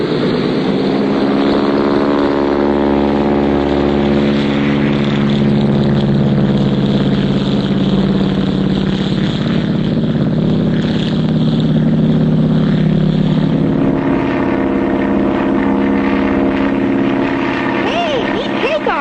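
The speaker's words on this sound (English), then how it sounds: "neat takeoff, Clutch." A small propeller airplane in a cartoon takes off, its engine droning steadily and shifting pitch as it climbs, with voices talking over the sound throughout.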